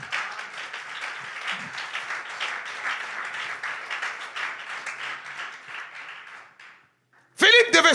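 A church congregation applauds and cheers in a sustained, dense wash of clapping and voices, then it fades briefly before a sudden loud burst of sound at the end.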